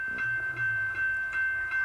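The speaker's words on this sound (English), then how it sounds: "this is the second train being backed out" A train being backed out along a railway, a steady low rumble with rhythmic clanks and a faint high whine carrying through the short stretch, no voices.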